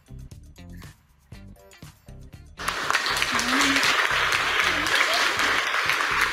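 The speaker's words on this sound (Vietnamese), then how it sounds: "Mình có thể cho anh Quang Minh một tràng pháo tay được không ạ?" Audience applause, starting as scattered, sparse claps and swelling after a couple of seconds into steady, dense clapping from a group.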